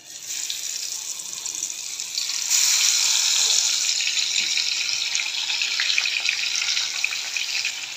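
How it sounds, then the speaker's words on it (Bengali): Marinated hilsa fish fries in oil, a loud, steady hissing sizzle that swells after a couple of seconds and holds, close and continuous with no talk. "এখন মাছটা ভেজে নিব।"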